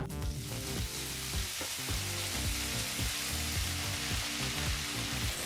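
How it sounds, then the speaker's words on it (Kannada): Mint leaves fry in a pan over a medium flame, giving a steady, close sizzle with soft stirring scrapes throughout, no voices. "ಈಗ ಪುದೀನ ಸೊಪ್ಪನ್ನು ಸಹ ಮೀಡಿಯಂ ಫ್ಲೇಮ್ನಲ್ಲೇ ಎರಡು ನಿಮಿಷಗಳ ಕಾಲ ಫ್ರೈ ಮಾಡ್ಕೋಬೇಕು"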